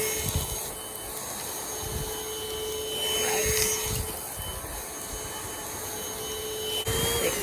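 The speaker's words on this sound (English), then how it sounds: "So, do you vacuum like this on a carpet?" An Airbot Supersonics cordless vacuum cleaner runs over carpet with a steady, moderately loud whirring drone that rises and falls slightly as it is pushed back and forth, with no speech.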